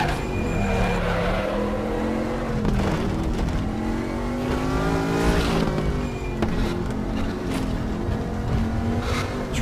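Race car engine in RaceRoom with a 4-speed gearbox, loud and continuous, revving up through the gears with pitch climbing and dropping at each shift, plus some tyre squeal.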